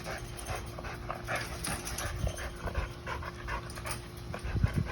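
A compact stud dog at a kennel pants steadily and close by, with quick breathy rhythms over a low, continuous background and no talking.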